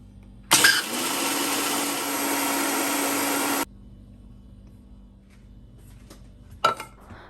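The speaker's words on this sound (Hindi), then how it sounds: "उसको हमने ग्राइंड कर लेना है और ये पाउडर फॉर्म में इसको हमने ले आना है" An electric grinder whirs loudly for about three seconds as it grinds roasted chickpeas into powder, then stops abruptly, followed by low background hum and a brief clatter near the end.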